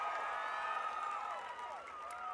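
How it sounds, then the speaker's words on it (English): Audience applause and cheering from a crowd at a First Lady's leadership and mentoring event in Detroit, steady and moderately loud throughout, with voices mixed into the clapping. "Let's give her a round of applause."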